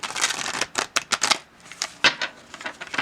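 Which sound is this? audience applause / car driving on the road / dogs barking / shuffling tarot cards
shuffling tarot cards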